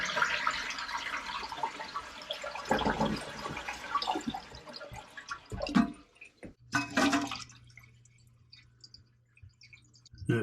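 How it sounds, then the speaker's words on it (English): A household toilet flushes as its tank is drained before a fill valve is replaced, with a loud rushing, gurgling swirl that tapers off and is followed by softer trickling and dripping water. "the first thing we're going to do is push the flush lever and let all the water out."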